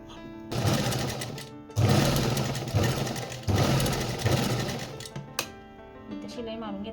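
A sewing machine stitches fabric for a blouse cup with two stitch lines, running in loud close bursts with short pauses between them and a faint click near the end.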